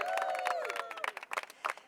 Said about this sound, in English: And yes, you may applaud Councilman Hollander.